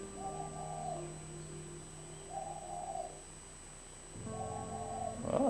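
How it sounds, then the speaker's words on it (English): Doves coo outdoors in soft, hooting phrases, three separate calls spaced a couple of seconds apart, moderately near and fairly quiet over light background hum. "Oh, the doves are back."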